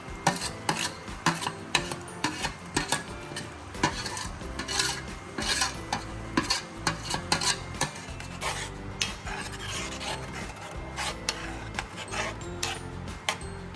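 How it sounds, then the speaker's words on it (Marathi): Ground paste being stirred into a simmering Goan raw mango curry in a pot, continuous close scraping and clattering of a spoon against the vessel with a faint bubbling sizzle underneath, no talk. "हे सगळं वाटलेलं घालायचं त्याच्यात आणि मग एक पाच मिनटं उकळी आणायची"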